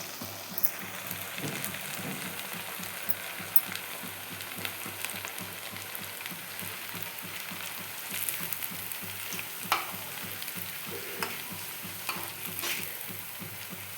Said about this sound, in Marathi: कमी गॅसवर तळायचे हे बघा असे मग असे थापून घेतले होते आता तळून घेते